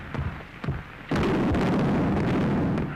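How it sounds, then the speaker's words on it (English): Field artillery firing, two dull thuds followed by a loud, sustained booming rumble that fills the rest of the moment. "It's the stupid field artillery."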